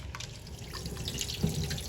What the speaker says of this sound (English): So see, I'm straining off, throwing off this water.